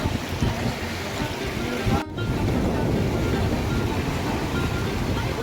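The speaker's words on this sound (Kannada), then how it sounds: "ತುಂಗಭದ್ರಾ ನದಿ ಇಲ್ಲಿ ರಭಸವಾಗಿ ಹರಿತಾ ಇದೆ ನೋಡಿ. ಈ ಶಬ್ದ ನೋಡಿ." The Tungabhadra river at Hampi, swollen by monsoon floodwater, gives off a loud, unbroken rushing roar from close by. The roar drops out for only a moment partway through.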